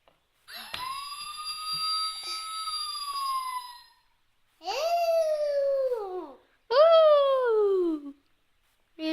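A voice imitates an ambulance siren in three drawn-out wailing calls, the first long and steady and the next two falling sharply in pitch, close to the microphone with pauses between them.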